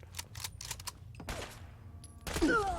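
An M40 sniper rifle shot in the Fallout 4 video game, a few sharp, brief cracks and mechanical clicks at moderate volume, followed by a louder burst near the end.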